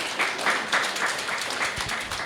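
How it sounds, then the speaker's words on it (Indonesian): Audience at a business seminar clapping for an insurance company partner, a moderately faint, uneven patter of hands with small surges, lasting about two seconds. "Tepuk tangan dong buat Allianz."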